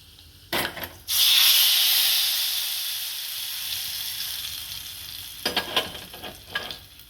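Mustard seeds and two dried red chillies hit hot oil for a tempering, bursting into a loud sizzle that slowly fades, followed by a few sharp clatters of a spoon or pan near the end.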